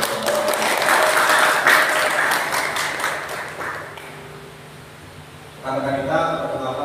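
A seminar crowd applauds loudly for several seconds, fading to a quieter stretch before a renewed burst of clapping near the end.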